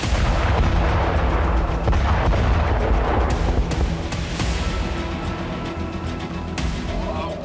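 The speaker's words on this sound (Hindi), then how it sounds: "ड्रोन से मिसाइल बेस में धमाके के बाद आग लग गई।" Explosion at a missile base struck by a drone, a loud sustained rumbling roar with scattered cracks and bursts that lingers over several seconds.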